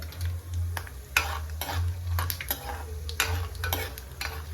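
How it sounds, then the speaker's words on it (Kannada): Peanuts, mustard seeds and cumin sizzle in hot oil for kanda poha, with a close steady crackle and repeated scraping stirs of a spoon against the pan. "ಇವಾಗ ಶೇಂಗಾ ಚಟಪಟ ಅನ್ನತಾವು"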